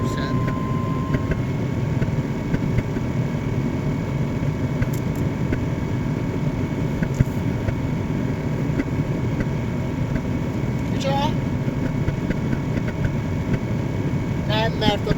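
Burner blower running at 75%, a steady loud whooshing roar with a constant mechanical hum, close and continuous, with a few faint clicks and brief tonal chirps over it.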